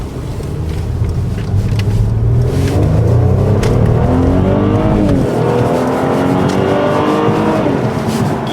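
Mercedes-Benz C-Class in Sport Plus mode pulling hard under full acceleration, a loud, close engine roar climbing steadily in pitch through the gears with brief shift breaks.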